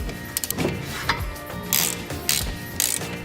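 A ratchet cracking loose the 13mm brake caliper bolts on a BMW E30 front suspension, with bursts of quick clicking pawl ratchets and metallic clunks, close and loud, in several short irregular spells.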